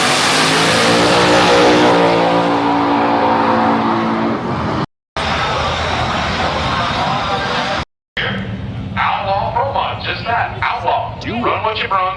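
Race car engines rev hard at a street car takeover with roll racing and a burnout competition, a loud sustained roar that drops into choppy revving bursts while people talk nearby.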